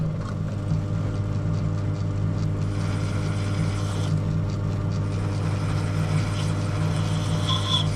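A lathe spinning down a part for a Yamaha XT660 motorcycle hums steadily with a low, even mechanical drone and faint whirring throughout, no voices.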